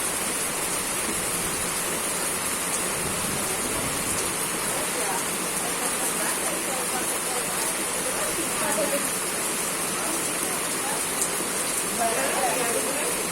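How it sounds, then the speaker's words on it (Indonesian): Heavy rain falls as a dense, constant wash of hiss that stays steady and loud the whole time, with faint voices now and then under the downpour. "Karena hujannya makin lama makin gede."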